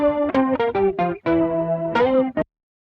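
Layered guitar tracks from a Logic Pro X song-intro mix, treated with denoising and EQ, play together as a sequence of sustained, harmonically rich chords with several distinct attacks before cutting off abruptly near the end.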